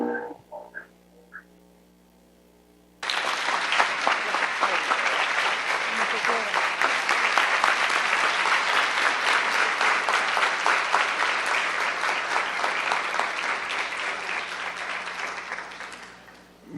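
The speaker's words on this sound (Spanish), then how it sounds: "pudiste oír los aplausos" A large audience breaks into sustained applause after a medical talk on COPD, loud and dense clapping that holds steady for about thirteen seconds before slowly thinning out.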